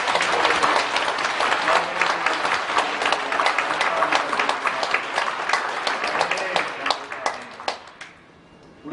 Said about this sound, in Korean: 우리 다시 한번 큰 박수로 하나님께 영광의